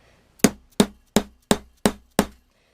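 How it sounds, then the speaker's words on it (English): A hammer strikes a rivet while setting it into a handmade leather axe sheath: six sharp, evenly spaced blows, close and loud, with brief quiet between them. "I'm going to use this hammer just so I can get a good solid purchase"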